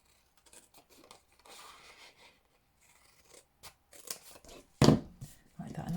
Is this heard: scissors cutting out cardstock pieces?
yes